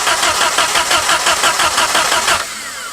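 An 80-year-old abandoned Jeep engine cranks at full throttle, the starter churning in a fast rhythmic pulse for over two seconds before cutting off, close and loud with no talk.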